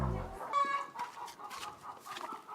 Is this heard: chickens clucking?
yes